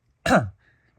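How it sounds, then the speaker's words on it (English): A single short cough or throat clear from a nearby person, one brief burst lasting about a quarter second, followed by quiet room tone. "I had a little cough."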